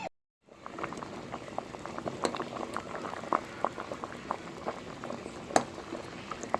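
A pot of sweet potato and breadfruit boils steadily on a stove, with a dense, continuous bubbling and frequent small pops and crackles that carry on evenly throughout after a brief silent start.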